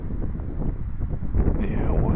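Wind buffets a UMX Beast drone flying outdoors, giving a loud, steady low rumble with gusty swells that strengthen toward the end.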